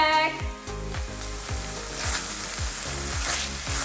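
Minced meat for a shepherd's pie sizzling in a pan, a dense continuous frying hiss with repeated scraping strokes of stirring, close and steady throughout.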